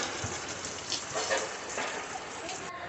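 Steady rain falls outdoors during a day-long downpour, making a dense, even hiss with occasional faint spatters, moderately loud and continuous.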